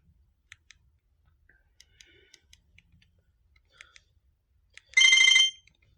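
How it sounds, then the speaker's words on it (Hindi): An itel it2192T phone signals an incoming call, first with faint buzzing vibration ticks and clicks, then a short burst of loud, bright ringtone near the end, with no talk. "यानी कि पहले वाइब्रेशन होगी बाद में रिंग होगी"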